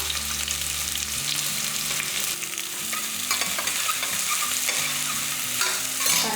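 Two large chopped onions sizzle in hot oil in a pan for a lunch-box rice dish, a loud continuous frying hiss with occasional stirring, over a low steady tonal hum.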